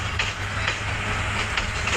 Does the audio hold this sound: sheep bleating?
no